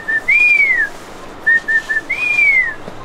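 A person whistles an imitation of a crested eagle's call in flight, clear and close: short rising notes followed by long arching slurred whistles, repeated in two phrases.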